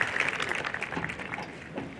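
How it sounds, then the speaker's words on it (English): An audience at a university commencement ceremony claps in a brief, moderate round of applause. "Let's give them a round of applause."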